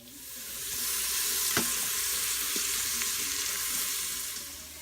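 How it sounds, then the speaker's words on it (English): Onions sauteing in a tablespoon of bacon fat in the bottom of an Instant Pot, giving a steady close sizzle with a few light stirring clicks, no talking. "I'm going to put a tablespoon of the bacon fat into the bottom of the Instant Pot and saute my onions"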